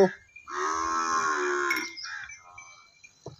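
A Nili Ravi buffalo lets out one long, loud, close moo lasting over a second, followed by quieter trailing sounds and a short noise at the end.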